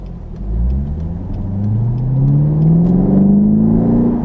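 A car pulls away and accelerates through first and second gear, engine pitch climbing steadily in a smooth rising whine, heard from inside the cabin with steady road noise and no talking.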